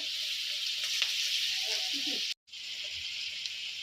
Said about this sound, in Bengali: দেখুন আমি আলুগুলো এভাবে লাল লাল করে ভেজে নেব